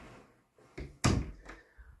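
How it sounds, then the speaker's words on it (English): An indoor house door is pushed shut, giving one solid thud with a short rattle, preceded by faint handling noises and followed by a softer knock, close and with no voices. "let me shut this door"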